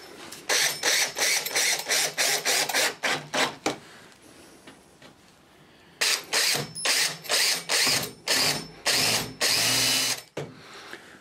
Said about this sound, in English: So I'm going to pop a few screws in here now using this bit that's not a good fit on all the heads